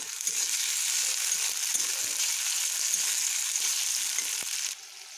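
Chopped tomatoes, two of them, hit a hot frying pan and sizzle loudly in a steady, dense hiss that holds evenly before dropping suddenly near the end.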